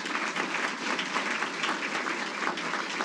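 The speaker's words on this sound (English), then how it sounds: "again, give yourselves a round of applause" An awards ceremony audience claps in a continuous, even wash of many hands, sustained at a steady moderate level with no voices over it.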